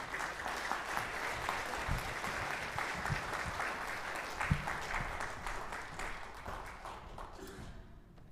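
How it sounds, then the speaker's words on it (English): Audience at a piano illusions show giving a warm round of applause as a volunteer walks on stage, steady, moderately distant clapping that gradually thins and fades toward the end. "Let's give a warm round of applause"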